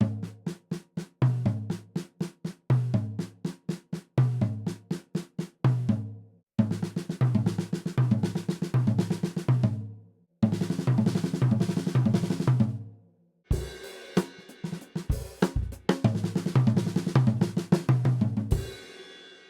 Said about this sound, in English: we're going to orchestrate the accents on the toms and play the ghost notes on the